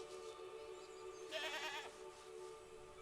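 Faint goat bleats sound in the video game Mundaun: a brief wavering bleat near the middle over a soft, steady musical drone, with no voices.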